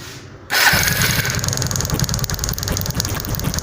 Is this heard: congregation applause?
no